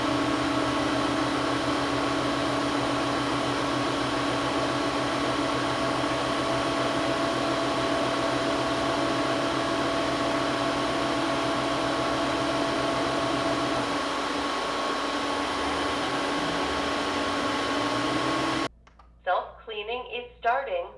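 A Roborock F25 wet-dry vacuum's base runs a steady, loud whirring hum while hot-air drying the roller, then cuts off abruptly and a voice talks over the quiet that follows.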